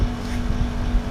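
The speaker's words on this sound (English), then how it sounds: "There is a very noisy air conditioner" A very noisy air conditioner drones steadily at a budget hotel in Pattaya, Thailand, an even low hum heard up close for about a second.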